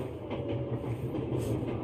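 A train from the video game 11-11 Memories Retold rolls steadily along, a continuous low rumble with faint rhythmic wheel clatter and no voices.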